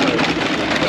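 Engine of a large sugarcane juice machine in Jaipur, India, a steady loud mechanical drone and hum running throughout the short moment.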